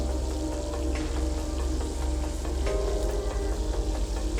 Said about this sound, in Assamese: মই মাছ কেইপিচ কেৰাহীত ভাজিবলৈ আৰম্ভ কৰি দিছোঁ।